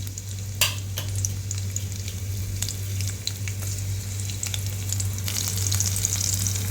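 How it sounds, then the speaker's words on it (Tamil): Finely chopped garlic frying in hot oil, a loud continuous sizzle with sharp stirring clicks and scrapes from the pan, a low steady hum beneath, no voices. "ஆயில் வந்து சூடானதும் அதில் ரொம்ப பொடியாக கட் பண்ண பூண்டை வந்து சேர்த்துக்கலாம்"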